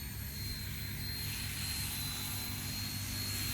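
An XK Eagle K127 RC helicopter coming in to land, its rotor and motor giving a steady, even whir with no talk.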